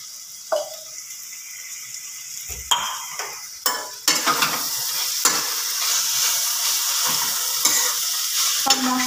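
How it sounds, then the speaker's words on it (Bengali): Soya chunks rice with spices being stirred in a pan: scattered spoon scrapes and knocks at first, then a steadier run of stirring over a continuous frying sizzle. "সব মশলা ভালো করে মিশিয়ে নিয়ে দেব অল্প জল।"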